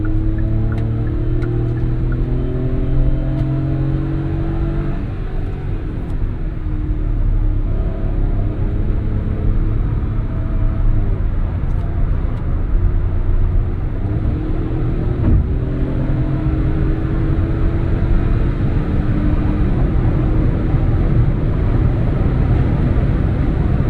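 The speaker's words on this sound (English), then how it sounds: "So you can hear the wind noise and stuff." Steady, fairly loud roar of wind and road noise inside a Hyundai car cruising on a highway, a constant low rumble with no one speaking.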